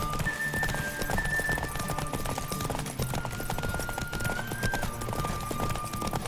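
Rapid galloping hoofbeats from The Witcher 3: Wild Hunt pound continuously and close, with synthetic whistling tones gliding above, like a video game chase.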